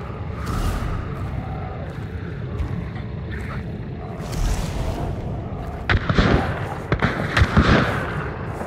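Gunfire in the video game Hunt: Showdown, several sharp shots and booming reports cluster toward the end over a rumbling background, moderately loud, with faint voices underneath.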